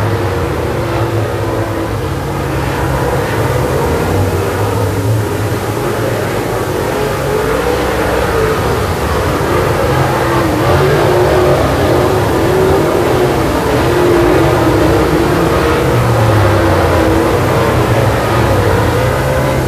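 Late model race cars roar around a speedway in a steady, loud engine drone that holds for the whole stretch, with pitch swelling and dipping as the cars pass, and no voices.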